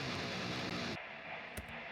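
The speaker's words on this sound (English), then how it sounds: "Guitars sound like this." Distorted heavy guitar bus from a brutal death metal mix, a dense loud wall of tone that cuts off abruptly near the midpoint, followed by a brief faint tail and a short hit.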